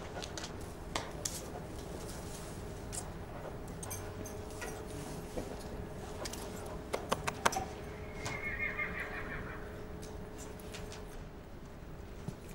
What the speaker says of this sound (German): Roberts spricht mit den Pferden